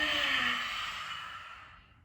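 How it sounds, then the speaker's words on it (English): One long, forceful lion's breath exhale through the open mouth during a yoga flow, a breathy rushing sigh close to the mic that fades out over two seconds. "give a really deep lion's breath"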